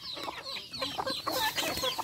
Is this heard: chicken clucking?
yes